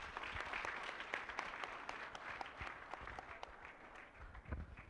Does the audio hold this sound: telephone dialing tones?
no